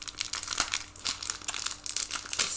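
Plastic sleeves from a Pokémon Elite Trainer Box are pulled open, giving a run of close, crisp crinkles and tearing crackles in irregular bursts with no talk over them.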